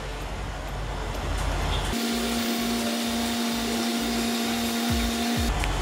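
A Range Rover's rear air suspension lowering the car, heard as a steady electric pump-like whir with a sustained tone and rhythmic low pulsing, loud and close, with no talking.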